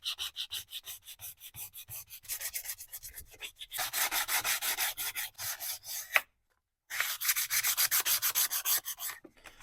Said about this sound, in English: sandpaper scuffing.